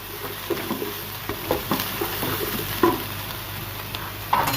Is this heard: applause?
no